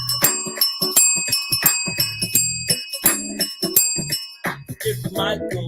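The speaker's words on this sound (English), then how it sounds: "Too early in the morning for bells." Tuned bells played as a solo on a morning show, a quick melodic run of bright struck notes with ringing overtones, close and clear.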